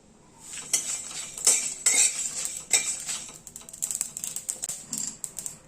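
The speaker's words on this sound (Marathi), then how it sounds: "आता हे सगळे मसाले पण आपण छान खमंग असे भाजून घ्यायचे आहेत" Red chillies and a small piece of cinnamon dry-roasting in a hot kadhai, with a spatula scraping and clinking against the metal in an irregular, rattling rhythm, close and fairly quiet, no talking.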